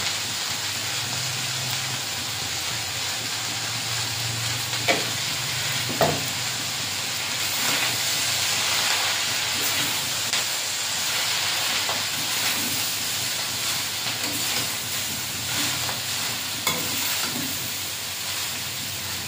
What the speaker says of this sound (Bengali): অল্প একটু লবণ দিয়ে শাকটা ভেজে নেব।